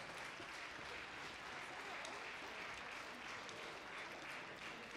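Distant, faint applause from the audience at a senior standard 10-dance championship final, an even, unbroken wash of clapping held at the same level throughout.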